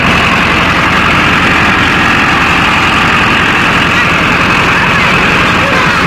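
A Mahindra 605 Novo tractor pulls a rotavator across farmland, its diesel engine a loud, close, continuous rumbling drone with steady vibration from start to finish.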